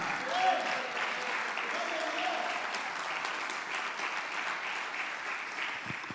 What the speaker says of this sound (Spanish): Dale un aplauso al Señor y a su palabra